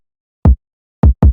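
Three punchy, booming kick drum hits from a trap beat sound in isolation, one alone and then a quick close pair, each short with deep low-end thump.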